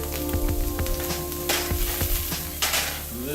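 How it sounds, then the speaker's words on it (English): Chicken with herbs fries in a pan with a steady loud sizzle, crackling pops scattered through it and a few sharper bursts of spattering. "so I got it sizzling, popping"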